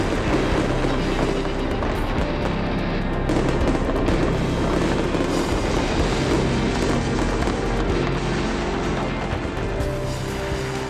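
Loud fireworks display bursting continuously, with dense overlapping booms and crackles forming a sustained roar from start to finish and no voices.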